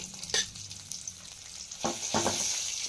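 Green chillies fry lightly in a pan with a soft, steady sizzle, broken by a few sharp clinks and scrapes of a spoon stirring against the metal.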